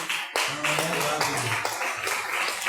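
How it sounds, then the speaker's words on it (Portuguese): Church congregation at a worship service clapping together in a quick, near rhythm while voices speak and sing over it. "as palmas para o Senhor Jesus"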